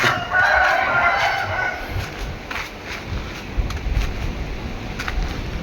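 Poultry sounds from ducks and chickens: a rooster crows loudly at the start, followed by quieter clucks and scattered rustling in the background.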